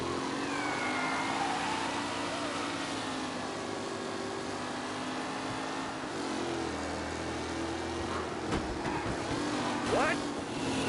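Race cars in a Mafia Definitive Edition race drone steadily throughout, engines holding a continuous whine with shifting pitch as they jostle for position, loud and close, with a voice talking over part of it.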